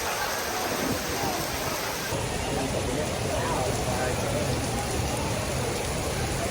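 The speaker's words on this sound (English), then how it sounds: "It is raining like I've never seen it rain here at Disney in a very long time." Heavy rain pours down at Disney in a dense, continuous hiss of drops on surfaces, loud and close throughout, with no breaks.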